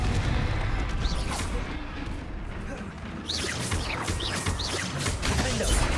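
Blasts of a Confringo fire spell in Hogwarts Legacy during combat, a series of sharp bursts with crackling tails repeating across the span over a dense, noisy battle bed.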